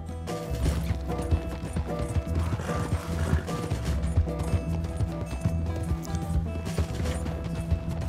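Hooves pound in a fast gallop from a horse in the video game Red Dead Redemption 2, a busy clattering rhythm heard close and steady over mechanical, music-like game sound with no talking.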